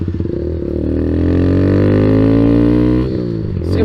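A Kawasaki Z125 small motorcycle rides along with a steady, loud engine drone that holds a constant pitch for about three seconds, then the revs dip and shift near the end as the throttle changes.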